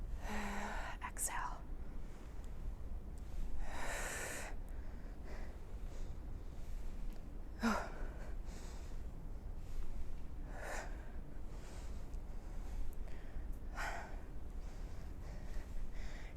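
Heavy breaths pushed out through the nose during a resistance band lower-body workout, several bursts spaced a few seconds apart over a low steady background with soft breathy sounds.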